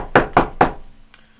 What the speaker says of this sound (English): Like you guys in the other rooms hear this knocking.